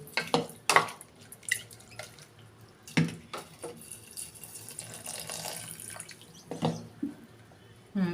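Water being poured into a pot of bottle gourd sambar, heard as intermittent splashes and drips in uneven bursts against a quiet kitchen background.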